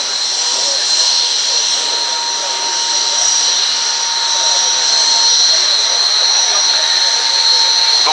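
A Belgian Air Component F-16 fighter jet flies at the 2018 Fairford air show. Its loud, steady jet roar fills the whole stretch, with a high whine on top and no break.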